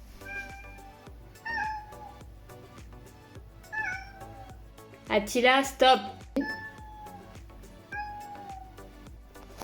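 A cat meows repeatedly nearby, several drawn-out cries with one louder, yowling outburst, while a person speaks briefly over it.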